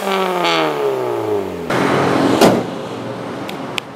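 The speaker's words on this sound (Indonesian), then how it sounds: "Nah, tadi kan Omoto bilang knalpotnya itu udah full system dari depan dan belakang pakai Tevro Valvetronic" A Toyota Yaris TRD Sportivo with a full Tevro Valvetronic exhaust system revs up and falls with a throaty, rasping exhaust note, then settles into a rumbling idle with a couple of sharp clicks near the end.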